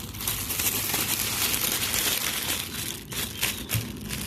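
A plastic bag crinkles and rustles close up while being handled for planting caladium seedlings, a dense continuous crackle with a few sharper crumples toward the end.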